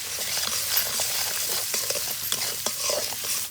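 Spice masala of ground coriander, cumin, chili, turmeric, green chili and salt fries in a pan with a steady close sizzle, broken by soft scraping stirs and small crackles.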